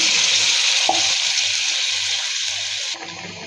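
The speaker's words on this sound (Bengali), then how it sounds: "বেগুনটা কষানো হয়ে গিয়েছে, দিয়ে দিব পরিমাণ মতো গরম পানি।" Hot water poured into a pan of sautéed eggplant masala hisses in a loud, continuous broadband sizzle that fades slightly toward the end, close and alone without voices.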